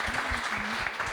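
Audience applause at a live parenting talk show, a dense, steady wash of clapping that fills the whole short moment at even loudness.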